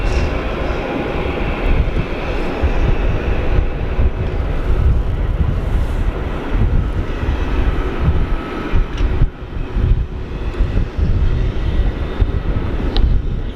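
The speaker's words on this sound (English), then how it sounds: "And the Jetstar's coming to park here." A Jetstar aircraft taxis to park at Sydney Airport on a windy day, its engines a steady, loud, broadband roar that holds throughout with gusty rumble underneath.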